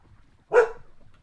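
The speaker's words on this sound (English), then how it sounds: "Sorry about the dog." A single short, sharp dog bark close by in a home, standing out alone against a quiet background.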